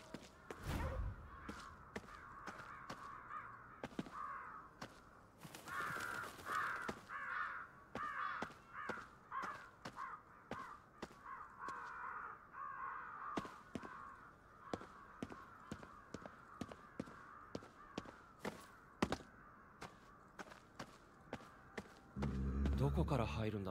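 Crows caw repeatedly around a cursed building in the video game Ghostwire: Tokyo, with sharp clicks and short bursts cutting through a steady ambient drone.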